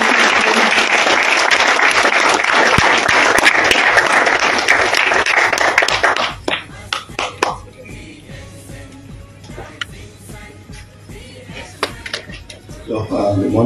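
An audience at a university event applauds to welcome Dato Lim, the DXN founder, with loud sustained clapping that drops after six seconds to a thinner scatter of individual claps.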